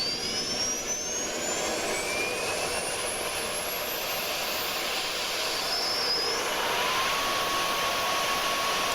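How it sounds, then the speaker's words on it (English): Auxiliary power unit spooling up on a Panavia Tornado IDS in a flight simulator: a steady, loud turbine roar with rising whine tones, continuous throughout and without speech. "And now we're going to start our APU."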